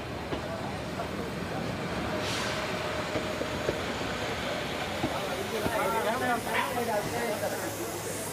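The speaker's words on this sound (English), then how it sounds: "As the train comes in, the ball token is handed over." A train pulls into an Indian railway station, its steady rumble and rolling rail noise filling the scene, with bursts of hiss and a brief metallic wheel squeal near the end.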